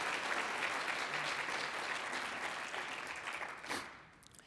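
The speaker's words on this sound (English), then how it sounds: "Give yourselves a round of applause." Audience applause at a city State of the City address in Novi, dense steady clapping from a large crowd that fades out near the end, with little talk.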